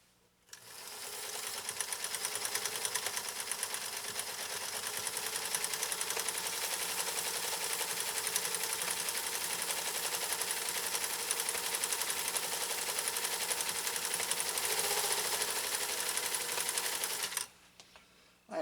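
A PFAFF 332 sewing machine stitches in one continuous run of about sixteen seconds, a fast, steady mechanical whir with rapid clatter heard close up. It stops abruptly, and there is no talk.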